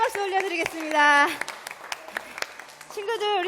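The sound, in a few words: congregation applause in church worship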